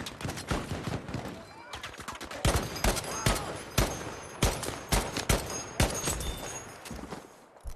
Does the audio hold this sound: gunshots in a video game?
yes